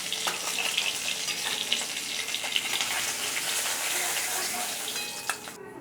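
Pieces of fish fry in hot oil with a close, busy sizzle and crackle, scattered pops and spatters running steadily under brief movement noises, no voices.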